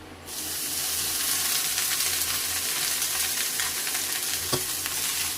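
Cooked rice going into a hot frying pan for eggless fried rice, a loud continuous sizzle starting abruptly and holding steady, close up, with a brief scrape or clatter near the end.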